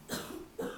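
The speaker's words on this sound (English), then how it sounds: "excuse my kids coughing in the background." Kids coughing off in the background, two quick bursts of dry coughs separated by a short pause, fairly faint with no one talking over them.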